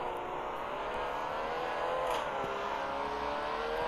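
A car engine revs in the video game Car Dealership Tycoon, a steady droning tone that rises slightly in the middle, heard alone with no talking.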